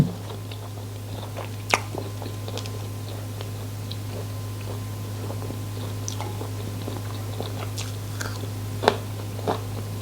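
Someone chews Isan pork sausage with crisp fresh vegetables and pickled garlic and ginger. A few sparse, crunchy bites stand out close to the mic over a steady low hum.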